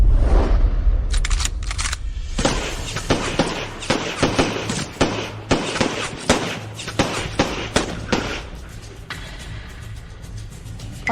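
Gunfire in an animated drama comes as a rapid run of sharp loud bangs through most of the stretch, densely spaced and overlapping under a noisy, booming background.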